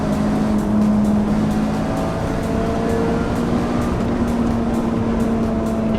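A 1990s Peugeot 306 GTI-6 driven hard, a loud sustained engine drone with a steady tonal hum heard close and continuous throughout.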